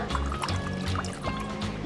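A person urinating indoors gives a steady liquid stream like a running faucet, continuous and fairly close for the whole stretch, with a low rumbling undertone and no talk over it.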